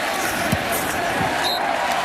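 Stadium crowd at a Miami vs. North Carolina college football game roars after a touchdown, a steady broad wash of cheering with a commentator talking over it.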